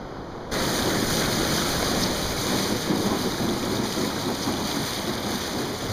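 Small ocean waves breaking and rushing around a surfer riding an Angulo Shaka 14 board, a steady wash of surf mixed with heavy wind buffeting the microphone, no voices.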